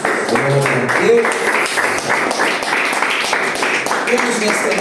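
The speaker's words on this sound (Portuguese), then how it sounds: "E as palmas louvam o nome do Senhor" A church congregation claps during a worship service, a dense, steady patter of hands under voices calling out praise and singing.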